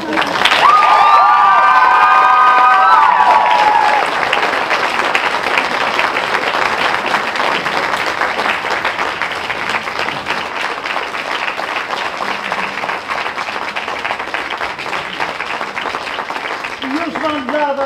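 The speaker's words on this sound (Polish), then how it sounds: "więc wielkie brawa dla Magdy" Sustained, dense applause and cheering from a large crowd celebrating Magda, loud and continuous for the whole stretch, with whoops and children's shouts mixed in and a voice briefly audible near the start.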